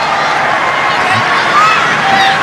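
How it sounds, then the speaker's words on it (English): Thai supporters roaring at a women's rugby sevens gold medal match against Singapore, a dense, steady crowd cheer with faint whistles, loud and sustained throughout. "Big cheer goes up from the Thai supporters."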